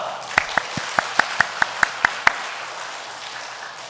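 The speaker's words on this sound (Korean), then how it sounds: "끝나고 나서 우리 아내분들은 큰 박수로 해주시면 되겠습니다" A church congregation at a Sunday afternoon sermon claps about ten times in a short, even rhythm that starts crisply, then stops, leaving a quiet room.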